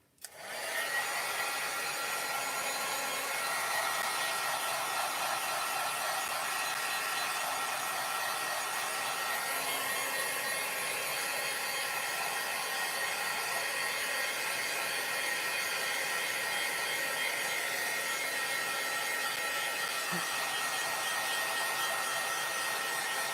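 A hair dryer blows steadily and loudly on card-making craft pieces, a constant whooshing roar that switches on at the start and runs unbroken throughout, with no talking.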